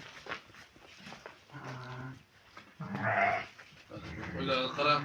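Sheep at a livestock sale bleat several times, wavering cries at close range, with someone speaking over and between them.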